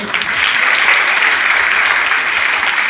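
Loud, steady applause from an audience at a school event in Palitana, clapping continuously for guests without a break across the whole stretch.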